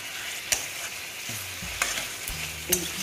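Masala for egg curry sautés in a pan with a steady soft sizzle, broken by a few sharp scraping clicks of a spatula against the metal.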